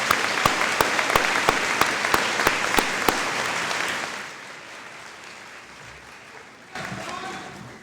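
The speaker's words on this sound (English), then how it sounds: "Let's give all of those folks a round of applause as well." Audience applause at a university commencement ceremony: a loud, full wash of clapping for about four seconds that fades to a quiet hall, then a brief renewed swell near the end.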